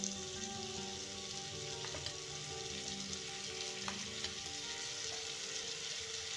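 Yogurt cooking into a chilli masala in a pan, giving a continuous low sizzle and bubbling, steady and fairly faint, with occasional light stirring taps.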